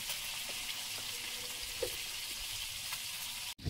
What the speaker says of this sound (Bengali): মাছগুলো ভাজা হয়েছে, প্লেটে তুলে নেব।